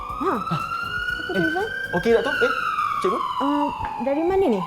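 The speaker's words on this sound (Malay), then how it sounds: "macam bunyi ambulans ke?" Wailing ambulance siren on a road, its long rising and falling tone carrying steadily under a conversation as people talk over it.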